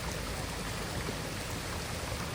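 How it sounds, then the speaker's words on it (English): Water pouring out of a snowbound house and running off steadily, a continuous broadband rushing wash, fairly loud and unbroken throughout with no voices. "See the water pouring out of there."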